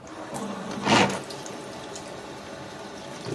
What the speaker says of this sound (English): with the tap water to thoroughly soak everything